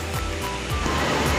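A waterfall roars as a continuous loud broadband rush of falling water, close and steady throughout the short stretch, with no voices.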